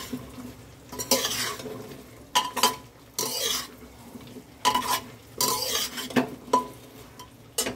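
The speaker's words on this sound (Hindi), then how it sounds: "इसको थोड़ा सा सॉटे कर लेंगे," Potato pieces for biryani are sautéed in a pan, with repeated scraping stirs of a utensil over a low sizzle, the strokes coming in bursts at close range.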